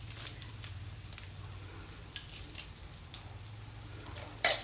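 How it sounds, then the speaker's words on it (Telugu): Peanuts and curry leaves frying in oil in a pan, a steady close sizzle with crackling pops throughout and a sharper spatter near the end. "కరివేపాకు పల్లీలు వేగిపోయినాయండి"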